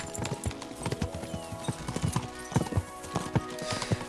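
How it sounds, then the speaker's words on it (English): Horses galloping in the Kingdom Come Deliverance 2 video game, rapid uneven hoofbeats thudding close and loud in quick clusters over a faint background, with no talk on top. "We should spur the horses on."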